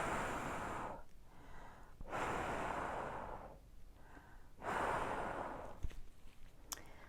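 Three long, deep exhalations blown close up into a small glass spell jar, each a breathy rush lasting about a second and a half, separated by quiet pauses.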